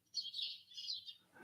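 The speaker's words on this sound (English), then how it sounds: "The birds are singing again," Small birds singing outdoors, a string of bright, high chirps and trills that rise and fall over about a second and a half. They come through clearly against quiet surroundings.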